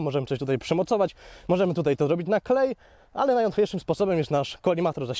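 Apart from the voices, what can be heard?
No distinct noise like a dog, phone or traffic.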